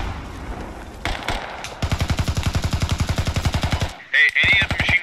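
Sustained automatic machine gun fire in the tactical shooter game Squad, a steady rapid rhythm of loud close shots running for several seconds, followed by a brief pause and a high-pitched burst.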